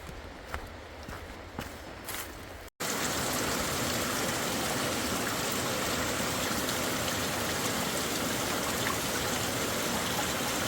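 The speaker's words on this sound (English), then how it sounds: "I still hear the stream" A small creek crossing the Appalachian Trail near Damascus, first heard faintly behind a few footsteps, then a steady loud rush of flowing water close by for most of the clip.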